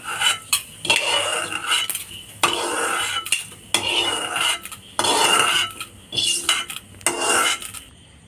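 Metal spoon scraping and clinking against a pan while scooping fried pieces of ash gourd out of hot coconut oil for pickle, repeated close rasping strokes in steady bursts, no voices.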